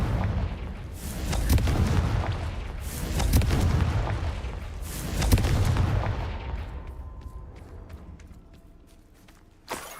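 Confringo blasting curse explosions in Hogwarts Legacy, several deep rolling blasts swelling and fading in succession, then quieter debris and a sharp final crack near the end.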